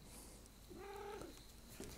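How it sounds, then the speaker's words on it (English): A cat on a table purrs softly and close by, with a brief vocal trill in the middle, the low rumble quiet against faint room hiss. "I've got a cat here on the table"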